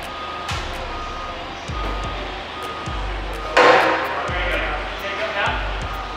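Truck reversing alarm while a GT3 race car is unloaded, regular repeated beeps with clunks and a sharp metallic bang midway, people talking nearby.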